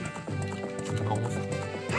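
Horse hooves clip-clopping in the video game The Legend of Zelda: Ocarina of Time, a quick, even rhythm of game-style hoofbeats with a faint music bed, fairly quiet throughout.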